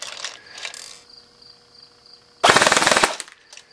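Airsoft FN rifle firing at a high rate of about 15 rounds per second, one dense burst of rapid rattling shots lasting over half a second, loud and near, preceded by fainter mechanical clicks and a whine.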